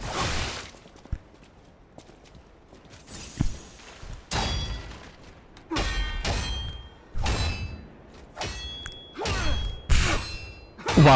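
Sword parries and metal weapon clashes against a boss in the video game Lies of P, a run of sharp clangs and heavy thunks in irregular bursts, some ringing briefly, loud and close with no talk.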